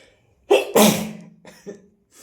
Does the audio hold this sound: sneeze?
yes